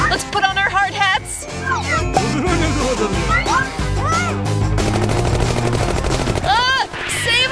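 Cartoon-style gunfire effect standing in for watermelon seeds shooting out during a kitchen prank, a rapid burst of shots mixed with music, squeaky voices and busy sound effects throughout.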